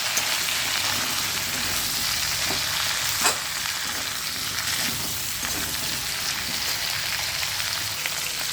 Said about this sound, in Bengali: এবার আলুগুলোকে আমি ভালো করে ভেজে নেব।